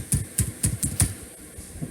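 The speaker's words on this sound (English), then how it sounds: "so you can start typing" Keystrokes on a computer keyboard, five or six crisp clicks tapped in a quick, slightly uneven burst, close and clear with a quieter tap at the end.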